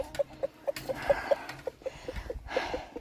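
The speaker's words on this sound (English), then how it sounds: "Happy chooks on fresh grass." Chickens and a rooster cluck on fresh grass in a new pen, a string of short, fairly close clucks in an uneven rhythm with no talk.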